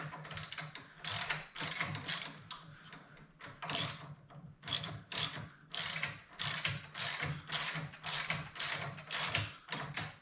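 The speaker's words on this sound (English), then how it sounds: "Get our ratchet set with our 9/16 socket here. It is set to tighten." A ratchet fitted with a 9/16 socket tightens a bolt during a Harley-Davidson Dyna Wide Glide reduced-reach kit install, making repeated quick clicking strokes in a steady rhythm, close and clear with no talk.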